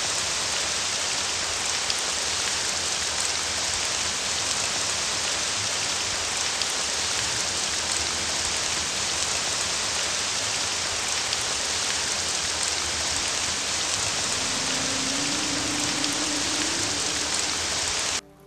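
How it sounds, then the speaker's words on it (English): Heavy rain falling onto a pool of water in a PlayStation 3 commercial, a dense, loud, unbroken hiss of drops splashing for the whole stretch, with a faint low tone rising near the end. "something as deceptively simple as a raindrop is really so complex, previous processors could only handle a light shower"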